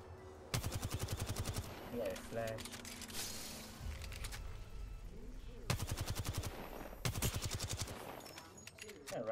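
Bursts of rapid automatic gunfire in the battle royale game Apex Legends, several close, loud volleys of evenly spaced shots separated by gaps, with people talking in between.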